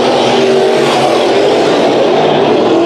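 Race cars roar around Bakersfield Speedway in a heat race, a loud, continuous engine drone with shifting revs and overlapping motors throughout.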